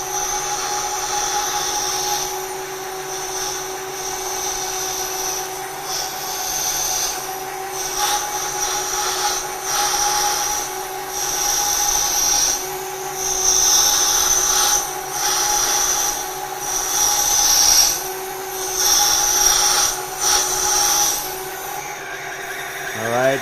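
A metal-cutting tool feeds outward across a workpiece on a machine, giving a steady motor hum under intermittent bursts of harsh cutting noise that come and go over about twenty seconds.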